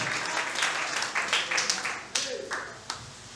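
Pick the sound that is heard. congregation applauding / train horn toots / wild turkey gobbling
congregation applauding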